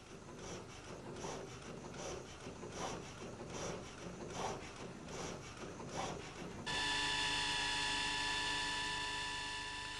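An electric drill under a long endurance test gives a steady, loud motor whine that starts abruptly after several seconds of rhythmic mechanical clattering.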